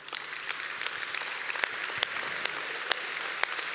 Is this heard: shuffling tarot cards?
no